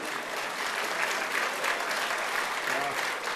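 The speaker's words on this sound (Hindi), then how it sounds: "तो इस पर तालियां, एक बार तालियां और बजा दी हजरात।" Dense, steady applause from a mushaira audience at a poetry gathering in Kuwait fills the hall, loud and continuous without a break.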